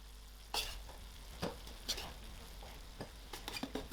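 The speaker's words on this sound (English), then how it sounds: "So now I am ready to throw in my rice" Rice tipped into a thick tomato braise in a pan, with a few sharp stirring scrapes and bursts of sizzle over a steady low frying hiss, close and moderately quiet with no talking.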